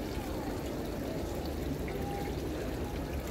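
Fountain in medieval Siena, Italy, where pigeons come to drink; a steady, close hiss of splashing, pouring water fills the whole stretch at an even level, with no talk over it.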